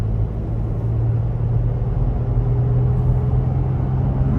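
A 2024 Toyota 4Runner SR5 Premium accelerates at about a third of throttle, its engine giving a steady, close low drone with a constant hum under road rumble throughout.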